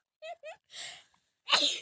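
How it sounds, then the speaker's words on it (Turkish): A young person playing Brawl Stars gives one sharp, close sneeze, preceded by two short voiced breaths and a loud exhale. "Hapşırmaktan."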